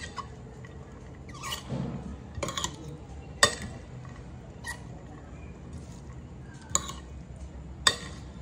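String bean salad is tossed in a bowl, with soft stirring and occasional sharp clinks of a utensil against the dish, spaced irregularly and close by.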